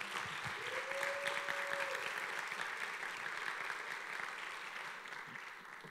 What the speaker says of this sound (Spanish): pido un aplauso para recibir a El Chamu